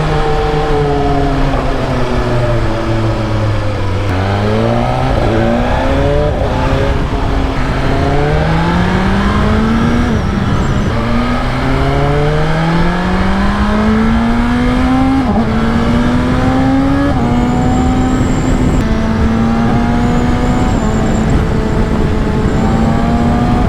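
A 2025 BMW M1000XR motorcycle accelerates hard through repeated gear changes, its engine pitch climbing in steady sweeps, then dropping and rising again. The loud, close onboard roar comes with heavy wind rush and no talking.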